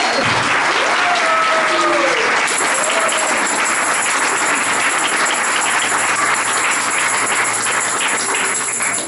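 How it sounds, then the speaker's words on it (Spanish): A church congregation at Iglesia Tiempo de Luz applauds its pastor on Pastor's Day, a loud, sustained wash of clapping that stays dense for several seconds, with a few voices calling out and a high electronic tone entering partway. "démosle un aplauso a nuestro pastor"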